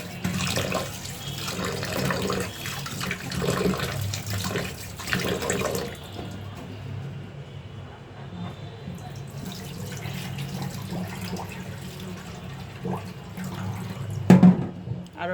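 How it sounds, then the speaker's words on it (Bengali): Sago pearls are rinsed in a bowl under a running kitchen tap, a steady close wash of flowing water with splashing and stirring, easing into quieter trickling partway through before a brief louder splash near the end. "এখন আমি সাগুদানাটা ভালোভাবে ধুয়ে নেব"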